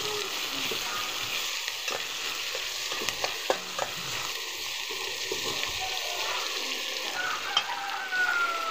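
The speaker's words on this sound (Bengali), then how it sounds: "আমি পরিমাণ মতন পেঁয়াজ দিয়ে" Onions fry in a pan for a pigeon curry, giving a continuous close sizzle broken by repeated scraping and clinking of a spatula as they are stirred, with no speech.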